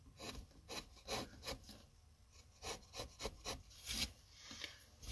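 A hand tool slices wood during relief carving, producing a close series of dry, rasping strokes in an uneven rhythm, each scrape rising and fading, with no talk.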